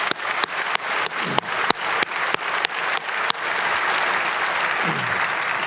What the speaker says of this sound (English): if we could give him another round of applause, please